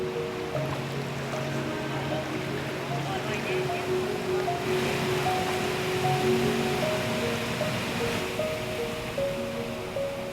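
Rushing currents of the Mekong River make a steady broadband wash of flowing water that holds an even level throughout, with faint tonal sounds layered over it.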